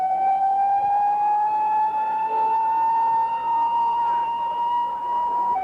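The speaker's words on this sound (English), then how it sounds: "Mass confusion as the ambulance pulls in." A steady ambulance siren wails with a slowly rising tone, fairly loud and sustained, with no talking, arriving at the scene of a shooting.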